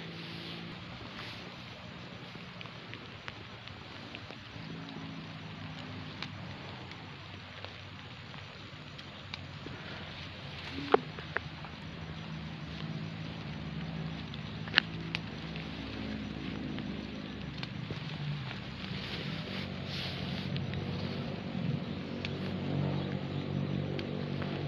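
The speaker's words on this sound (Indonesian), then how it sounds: "Jadi di sini cuacanya sedang hujan ya teman-teman semua." Heavy rain falling in Aceh, a steady broad hiss that continues throughout, faint and distant, with a couple of sharp isolated ticks and a low background rumble, no one speaking.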